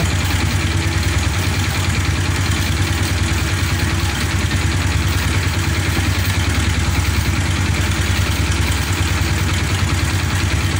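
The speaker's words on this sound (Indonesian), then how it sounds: "Ini posisi mesin hidup, kita lepas, apakah akan mati ini motor." A Honda Blade FI motorcycle engine idles continuously with a low, even rumble and constant vibration, close by, with no talk over it; the bike stalls often and has battery trouble.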